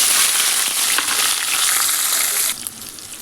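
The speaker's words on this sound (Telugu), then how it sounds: "ఆయిల్లో ఈ విధంగా ఫ్రై అవ్వాలండి" Onions, green chillies and curry leaves frying in hot oil, a loud dense crackling sizzle that holds steady before suddenly dropping to a quieter hiss near the end, with no talk.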